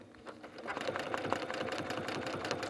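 A sewing machine stitches trapunto lines through a quilted piece, running in a quick, even mechanical patter up close with no talking.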